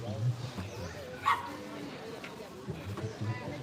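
A dog whines and yips from inside a dog crate, short whimpers and small barks rising over steady, close talking by a person in the room.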